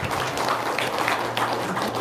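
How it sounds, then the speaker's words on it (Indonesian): A crowd applauds in a dense, continuous patter of clapping, fairly loud and close, filling the whole moment. "tepuk tangan dong, luar biasa"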